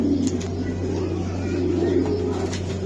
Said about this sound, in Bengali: একই ব্লাড লাইন, জনসনের ব্লাড লাইনের কবুতর ভাই আসলে পালেন